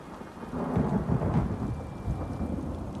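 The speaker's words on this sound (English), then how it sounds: "It's been storming since we arrived, and it shows no sign of letting up." Steady rain pours under rolling thunder during a storm in the video game Elder Scrolls Online, a low rumble swelling and holding over a continuous hiss of rainfall with no voices.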